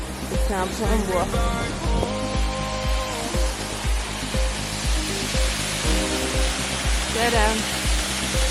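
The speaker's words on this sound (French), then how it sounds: "C'est une petite cascade, elle est pas trop énorme." Small waterfall beside a wooden bridge in Linköping, Sweden, giving a steady broadband rush of falling water, close and continuous, with music and brief voices mixed over it.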